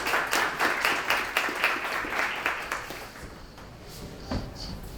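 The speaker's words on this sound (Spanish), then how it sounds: "Así que, bienvenido, Luis, muchas gracias, un aplauso." An audience at a pension-reform panel discussion applauds to welcome a guest, a dense burst of clapping that fades away over a few seconds, then some faint rustling and a knock.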